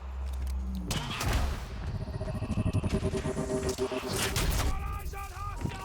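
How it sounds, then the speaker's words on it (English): LMG machine gun fire in the video game Quantum Break, a rapid burst of loud thudding shots in the middle of the clip, mixed with heavy impacts and other game sounds. "The recoil on this LMG is crazy"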